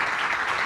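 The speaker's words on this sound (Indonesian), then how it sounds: "Tepuk tangan untuk kedua tamu kita hari ini telah mengajarkan kita" A studio audience on an Indonesian TV talk show applauds for two guests, a brief, dense, loud wash of clapping with no break.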